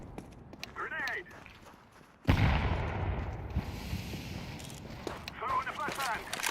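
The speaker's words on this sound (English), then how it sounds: "I'm throwing a grenade!" A grenade explodes in Counter-Strike 2 with one sudden loud blast, followed by a long rumbling decay. People talk before and after the burst.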